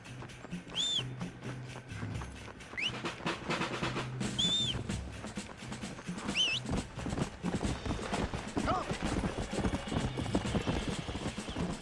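Steady clip-clop of horse hooves at a trot in a Rockstar Games title, with a few whinnies and whistly squeals over a busy, rumbling background.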